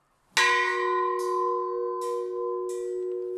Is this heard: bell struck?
yes